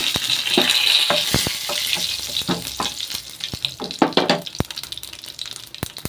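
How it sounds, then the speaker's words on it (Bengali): Dried red chillies, bay leaf and whole cumin seeds hit hot oil in a pan, a bright crackling sizzle with sharp pops and clinks, loud and close, with no voices. "তেলটা গরম হয়ে গেছে, দিয়ে দেবো শুকনো লঙ্কা, দিয়ে দেবো তেজপাতা, গোটা জিরে"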